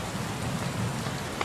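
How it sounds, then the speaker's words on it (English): Rain from the dynamic weather system in an Unreal Engine 4 open-world scene, a steady soft hiss of falling drops at even intensity, with no voices over it. "as before, we have started raining"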